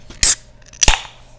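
Can of ginger lemon drink being opened, two sharp hissing pops of the tab cracking, loud and close, about half a second apart with quiet in between.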